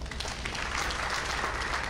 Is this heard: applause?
yes